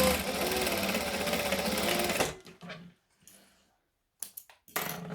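A sewing machine stitching a zipper pocket runs fast and steady for about two seconds, then stops, followed by a few soft handling clicks and rustles.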